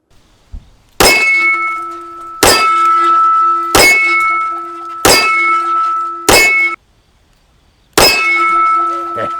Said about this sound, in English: 230 grain round ball, 45 ACP ammo in the Smith & Wesson 625 on moonclips